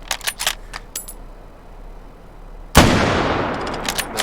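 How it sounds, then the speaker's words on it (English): A single loud Lee Enfield No.4 Mk1 bolt-action rifle shot cracks out near the end, preceded by faint metallic clicks and rattles of handling, with a sustained echoing tail after the report. "So let's fire a few rounds of the regular Lee Enfield"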